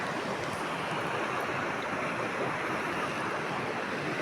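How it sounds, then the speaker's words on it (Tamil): Fast-flowing river water rushes past in a steady, dense roar close to the microphone, continuous throughout with no voices. "ஓடுற தண்ணியில் பிடிக்க முடியாது ஒரு ஓரமாக தேங்கின தண்ணியில் தான் பிடிக்க முடியும் பாரு தண்ணி ஃபாஸ்ட்டாக போகுது"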